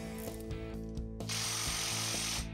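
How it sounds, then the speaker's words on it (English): A power tool with a 19 mm socket runs up the center bolt of a Yamaha G9 golf cart clutch, a steady whirring drive with a brief harsher burst partway through, close and with no speech. "we're going to tighten this up using a 19 millimeter socket"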